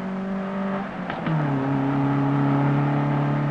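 Lancia Stratos rally car on the 1975 Monte Carlo Rally, heard from inside, its engine droning loudly before a quick blip and downshift drops the pitch, then settling into a steady lower hum into the corner.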